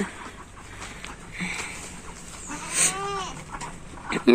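A goat bleats once, a wavering cry up close, amid faint farmyard background noise and scattered rustles.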